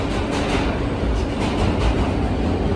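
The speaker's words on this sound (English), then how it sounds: "We are back on the subway." A subway train rumbles along at speed, a steady loud roar with faint rhythmic clatter from the rails.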